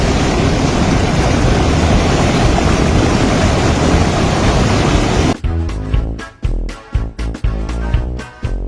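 A strong river current near a dam makes a loud, steady broadband rushing that stays close for about five seconds, then cuts off abruptly and gives way to tonal, music-like sounds.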